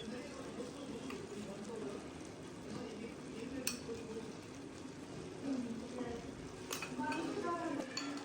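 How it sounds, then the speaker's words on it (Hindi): Rice is mixed with food colouring in a pot for sweet mutanjan, a soft steady scraping and stirring of spoon against metal with a couple of sharp clinks, quiet and close, with a voice speaking faintly at times. "चावल हमें अच्छे से मिक्स कर लेंगे"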